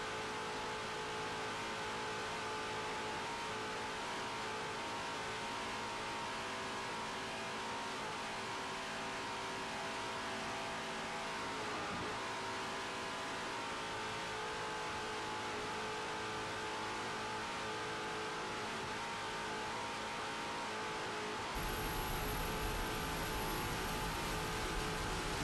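An MRD inboard engine on a racing boat in A-class door-to-door competition at Hampton, Virginia, 1997, drones loudly and steadily with a sustained engine roar; near the end a bright high whine joins in. No talk over it.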